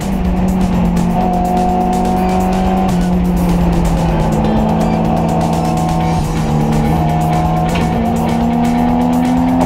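Race cars on track during a grip race, loud sustained engine drone with shifting pitch and tire squeal, a Porsche Boxster among them, close and continuous with no talk.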